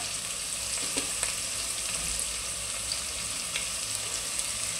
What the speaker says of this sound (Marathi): आणि ह्याला पण चांगली परतून घेऊया।